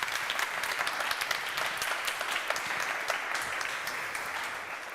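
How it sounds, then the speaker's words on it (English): A conference audience claps steadily throughout, a dense spatter of hands filling the room at moderate volume without letting up. "Can I get a round of applause, please?"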